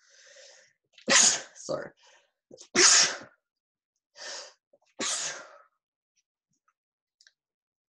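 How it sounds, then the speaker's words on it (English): A sneeze into the elbow interrupts a lecture, a couple of sharp bursts with short breaths between them, close and loud, with a brief apology spoken after. "I'm sneezing in my elbow, so I won't pass my viruses to you"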